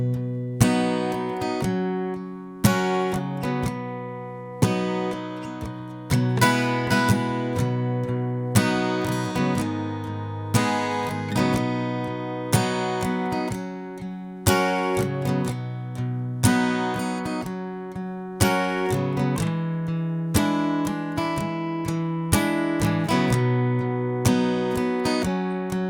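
Guitar playing the verse of a song, a steady strummed chord pattern with regular accented attacks repeating over several bars, close and clear with no voices.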